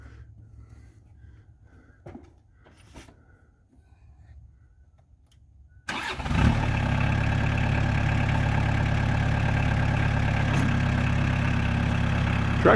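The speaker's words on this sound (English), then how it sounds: "go ahead, Leo, and start that up and give them a little demo on it" A 2003 New Holland TC40D compact 4x4 diesel tractor with loader starts up partway through, going from a quiet yard with faint thumps to a loud, steady, close diesel idle that holds to the end.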